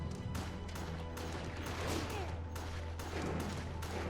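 Gunfire in the video game Resident Evil The Darkside Chronicles, a dense run of repeated shots with sharp cracks over a loud continuous rumbling game backdrop.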